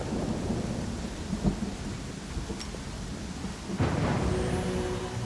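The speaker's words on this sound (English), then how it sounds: "Oh, the rain." Rain and rolling thunder from the Pathfinder: Kingmaker video game, a steady wash of rainfall with low rumbles and a louder thunder swell near the end, no talking.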